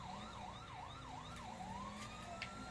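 A police car siren wails loudly and continuously, rising and falling in a steady cycle before switching to one long rising sweep, over a low rumble of traffic.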